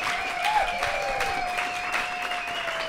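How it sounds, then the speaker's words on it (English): A live audience claps for a discussion panel at the end of an evening show, a steady moderate applause with a faint sustained tone running beneath it. "How about a big warm round of applause for our panel tonight?"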